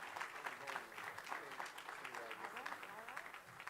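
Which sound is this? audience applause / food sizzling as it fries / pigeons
audience applause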